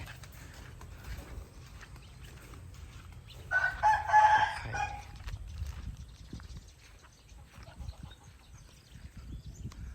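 Chickens of a three-bloodline breed at a rural Thai home, with a rooster giving one mid-distance crow over faint background rustling and outdoor ambience.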